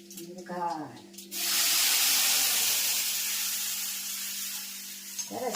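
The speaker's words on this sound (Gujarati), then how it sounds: "સરસ મજાનો કઢીનો વઘાર." A kadhi tempering of mustard seeds, cumin and sweet neem leaf hits hot oil with a sudden loud hissing sizzle that holds for several seconds and slowly eases, after a brief spoken voice at the start.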